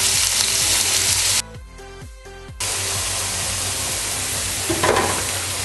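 Chopped onions, three medium ones, sizzle and fry in hot refined oil, a steady broadband hiss that drops out briefly in the middle before the loud frying resumes, with a faint stir or clatter near the end.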